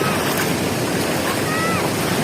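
Ocean surf roars continuously with heavy wind noise buffeting the microphone, a loud broadband wash without distinct breaks, as fairly high waves break at Labuhan Jukung beach, Krui.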